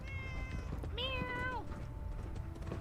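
A cat in Fallout 4 meows clearly, with one long, rising-then-falling meow in the middle following a fainter one before it, close and alone over a steady game background.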